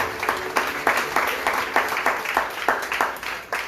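Church congregation clapping in unison at a Spanish-language service, a steady rhythmic beat of synchronized claps, roughly two per second, sustained across the room.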